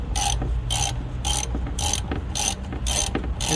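Ratchet wrench clicking while undoing bolts on a Rover 45 car, in about seven rapid bursts of metallic ratcheting at close range, evenly spaced with brief pauses between them.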